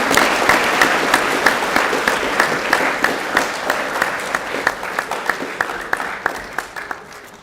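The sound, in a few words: applause for volleyball players at school prize giving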